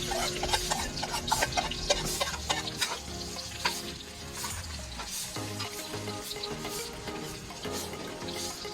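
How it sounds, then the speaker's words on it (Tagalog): Garlic, onion and ginger sauté in rendered beef fat for papaetan. A steady, close sizzle runs throughout, with frequent spatula scrapes and stirring clatter and no talk. "Ilalagay na natin ng kanyang bawang, sibuyas at luya. So ayan, igigisa na natin siya."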